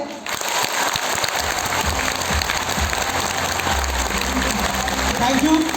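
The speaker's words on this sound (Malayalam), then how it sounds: "നിങ്ങൾ നിങ്ങളുടെ ഹൃദയത്തിന് വേണ്ടി കൈയടിക്കാൻ ഒരു ചാൻസ് കിട്ടിയാൽ എങ്ങനെ അടിക്കുമെന്ന് കാണട്ടെ" Business-seminar audience clapping together, a dense sustained wash of applause that swells and holds throughout, with a voice briefly audible over it.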